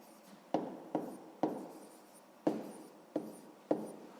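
Pen strokes on paper as a math answer is written down, six short scratchy bursts in an uneven rhythm, close and quiet, with no talking.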